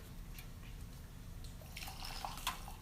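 Hot water pours and trickles into a small brewing vessel of 2013 Chensheng Hao pu-erh tea leaves, a soft, close liquid splash that grows brighter toward the end.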